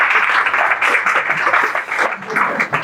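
An audience at a talk claps to welcome a doctor, a close, busy burst of many hands applauding continuously with uneven swells, and a voice faintly present underneath.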